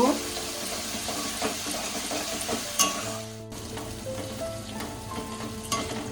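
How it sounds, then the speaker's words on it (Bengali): Spice paste with ginger paste sautéing in a pan, continuous sizzling with stirring scrapes and clinks, close and moderately loud, without speech. "দিয়ে আমি মশলাটাকে আবারও ভালো করে কষিয়ে নেব।"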